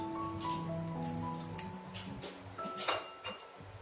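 A spoon stirs lemon tea in a glass, giving faint, scattered light clinks and taps against the glass over soft background hum, with a few brighter chimes standing out.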